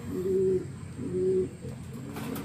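A racing pigeon coos twice nearby, two soft, low, throaty calls in a slow rhythm against quiet background hum.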